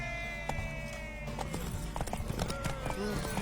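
Hooves clip-clop in a quick, steady rhythm as a horse gallops in a video game race, with shouting voices and other game sounds layered over the hoofbeats.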